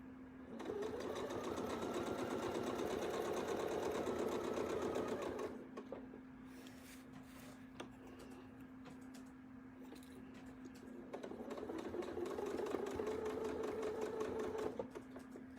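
A sewing machine stitching a 1/4 inch seam runs in two steady stretches of rapid even whirring, separated by a quieter pause with a constant low hum, fairly soft and close.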